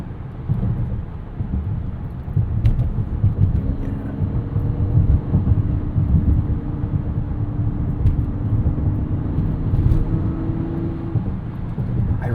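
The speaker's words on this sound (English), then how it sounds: "I really hope those turbo noises come through." Steady engine drone from a 2025 Mazda CX-70 Turbo S turbocharged inline-6, with a rising turbo whine layered over broad road rumble, continuous and fairly loud throughout.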